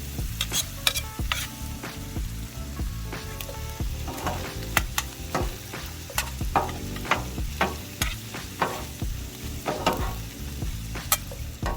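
Chopped cheese beef with onions being stirred and scraped across a hot sizzling griddle, steady frying hiss punctuated by repeated sharp spatula clacks and scrapes, close and moderately quiet, no talking.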